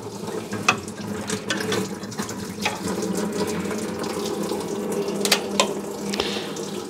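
Water drains from a Chevrolet C10 pickup's radiator, pouring steadily and splashing into a bucket, a continuous rushing gush with occasional louder splatters, close by.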